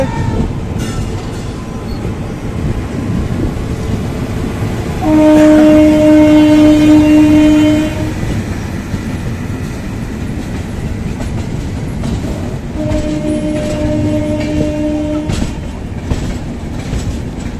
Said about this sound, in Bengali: ট্রেন গোদাবরী এক্সপ্রেস ঢুকছে